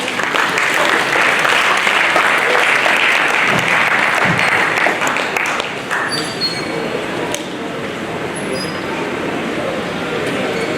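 An audience at an annual international conference applauds after a speech, a dense, loud wash of clapping for about six seconds that then thins and fades to scattered claps and room noise.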